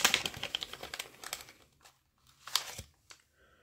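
A small paper envelope is crinkled and torn open up close, with a busy burst of rustling and tearing at the start, a short pause, then a few more sharp crinkles near the end.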